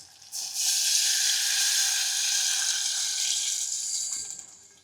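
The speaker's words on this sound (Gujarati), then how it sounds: "હવે આપણે આમાં પાણી નાખી દેવાનું છે।" Water poured into hot oil with garlic, a loud bright sizzle bursting up, holding steady for a few seconds, then fading out.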